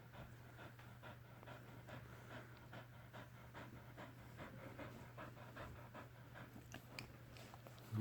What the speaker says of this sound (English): She's out of breath.